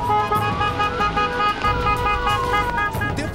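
Car horns of app-based ride drivers honking in a funeral procession for a murdered driver, continuous overlapping toots with traffic rumble over a few seconds, fairly loud and close.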